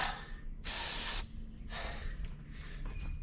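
An aerosol can of upper cylinder lubricant sprays two short bursts into a 1970s Hatz diesel compactor engine, sharp hissing up close over a faint low rumble.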